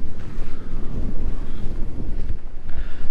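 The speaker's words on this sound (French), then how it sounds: "il y a du vent" On a sailing passage toward Martinique, strong wind buffets the microphone, making a continuous loud low rumble with gusty surges. No voices are heard.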